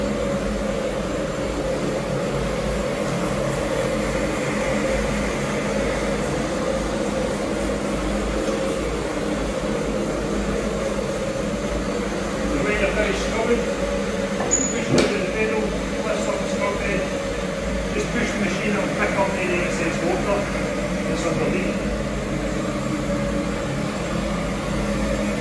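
A Tennant T2 walk-behind floor scrubber runs with its vacuum engaged, giving a steady, even machine whir and airy hum that holds constant throughout, with a few faint clicks and knocks in the middle and no voices.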